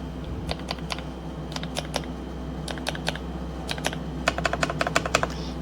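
Keystrokes on a 75% wireless mechanical gaming keyboard (Kisnt KN85) fitted with Wisteria switches and new keycaps, heard alone as clustered bursts of crisp clicky taps at close range over a steady low hum.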